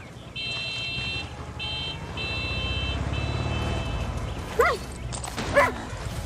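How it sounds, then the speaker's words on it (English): A dog in the video game Far Cry 6 barks twice near the end, sharp and close, after a stretch of steady electronic beeping tones over a low rumbling game ambience. "You are such a good dog."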